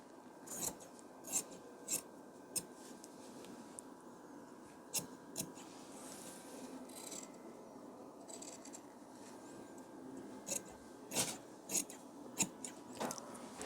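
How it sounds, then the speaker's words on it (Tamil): Scissors snip through blouse fabric in a series of short, crisp cuts spaced irregularly, with soft rubbing of cloth between, close and fairly quiet. "இப்போ கட் பண்ணிடலாம்."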